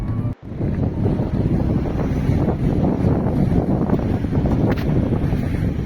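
Strong wind gusts batter the microphone at the high-altitude Zoji La mountain pass, a loud, continuous buffeting roar with one brief dropout near the start and no speech.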